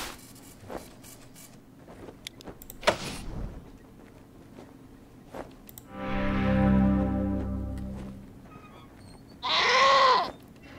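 A goat bleats in the video game Wasteland 2, two drawn-out nasal bleats standing out loudly over a quieter background of game ambience and small clicks.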